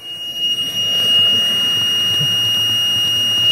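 A steady high-pitched electronic high water alarm on a boat sounds continuously, with a low rumbling hum of machinery underneath.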